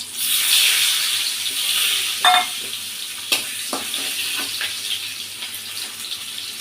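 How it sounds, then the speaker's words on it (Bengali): Potatoes frying in a pan hiss loudly at first and then fade toward a softer sizzle, broken by a few sharp clatters of stirring or turning. No voices. "আলুগুলো কাঁকলের মতো এপিট ওপিট করে ভেজে নেব"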